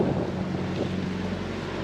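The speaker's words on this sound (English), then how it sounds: "You can hear our engine is running." A sailboat's engine runs under way, a steady low drone mixed with wind buffeting the microphone and water rushing past the hull, continuous and fairly loud with no talk.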